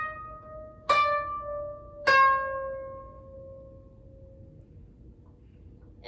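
Koto phrase with string 9 pressed at a full push, two clear plucked notes about a second apart, each ringing bright and then decaying slowly into quiet, played alone with no talking.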